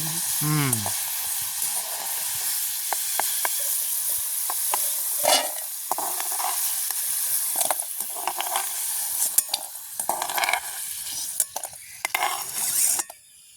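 Steady hissing sizzle of yam pieces frying in hot oil, close up, with occasional scrapes and clinks of a utensil stirring in the pan.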